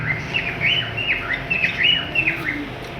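Albino red male and creamino female lovebirds, a breeder pair, chirp in quick repeated high twittering bursts, close and clear over a low background hum.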